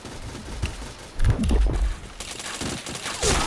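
Rapid bursts of automatic gunfire from the shooter video game Point Blank, in dense clattering volleys with short gaps and a heavier burst in the middle, loud and close, with no talking.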